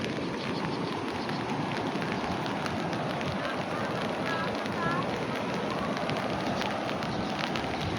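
Heavy rain pours steadily near a dam, a dense, even hiss of falling water that continues without letup, with a few faint voices in the background.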